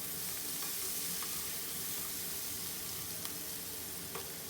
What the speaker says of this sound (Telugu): ఈ మెంతి కూరను కూడా వేసేసి అలాగే ఒక స్పూన్ అల్లం వెల్లుల్లిపాయ పేస్ట్ కూడా వేసి బాగా ఫ్రై చేసుకుందాము.